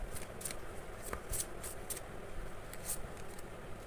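Tarot cards being shuffled close up, a steady papery riffle with several sharp flicking snaps standing out above the rustle.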